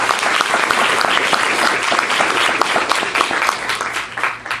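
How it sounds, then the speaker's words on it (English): An audience at a Lacey Rotary Club meeting breaks into loud, dense applause, many hands clapping in a steady rush that tapers toward the end, with no voices over it. "Let's give her another round of applause."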